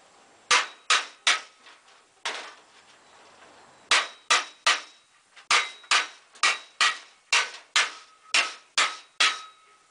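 A hammer strikes metal to flatten it on a trailer door, sharp ringing blows in irregular groups of about twenty, loud and close with short decays.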